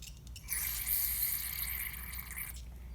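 Liquid trickles steadily in a continuous, close-up stream from a Briggs and Stratton L-head 600 series carburetor for a couple of seconds, with a faint low hum underneath and no talking.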